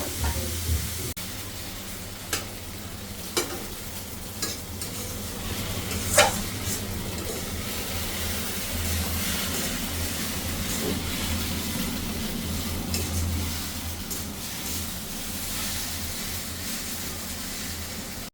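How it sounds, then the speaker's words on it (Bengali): Potato and carrot pieces cooking in a pan give a quiet, steady sizzle. A few clinks of stirring come early, and faint background noise sits underneath. "দেখো দেখো আমি রান্না করছি, আজকে সবজি দিয়েছি"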